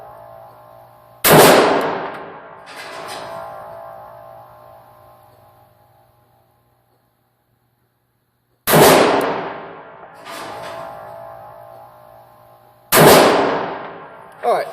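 Pistol shots ring out at an outdoor range test of XS 24/7 Big Dot sights, a few loud, sharp reports spaced several seconds apart, each followed by a long decaying echo.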